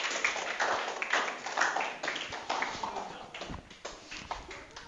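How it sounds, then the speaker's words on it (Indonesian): Classroom audience clapping for student performers, a steady patter of many hands across the room that tapers off near the end, with no voices over it. "Boleh tepuk tangan lagi untuk para penampil kita hari ini."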